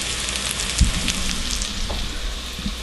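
Mushrooms seasoned with pepper sauté in a pan for beef stroganoff, giving a continuous close hiss of frying with a few faint stirring clicks and a soft knock near the start, no voices.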